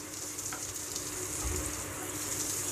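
Mustard seeds crackling and sizzling in a little hot oil in a pan, a steady quiet hiss with faint pops, no talking.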